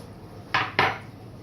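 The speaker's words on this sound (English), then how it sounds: "Give it another stir." A spoon stirring dissolved sugar syrup in a pot gives two quick scraping swishes against the metal a moment apart, close and clear over a quiet room.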